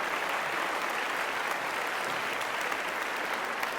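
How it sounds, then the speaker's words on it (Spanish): Steady, dense applause from a church congregation fills the room, an even wash of many hands clapping without pause, moderately distant and fairly quiet. "Dale un aplauso al Señor."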